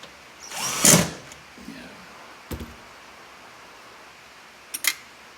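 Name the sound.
driving screws into car door fabric trim with a drill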